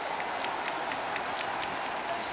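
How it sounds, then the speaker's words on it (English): Football stadium crowd at a United match cheering and applauding after a good passage of play, a dense, steady roar of clapping and voices filling the whole clip at moderate loudness with no commentary over it. "That was a good bit of play that from United. Got the crowd on their feet."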